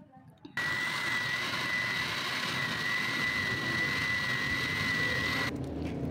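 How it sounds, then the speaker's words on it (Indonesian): A blender grinds red chillies and bird's eye chillies, a loud continuous high whine with a steady tone that starts abruptly, holds for about five seconds and then stops. "lalu kita haluskan 250 gram cabai merah dan 50 gram cabai rawit"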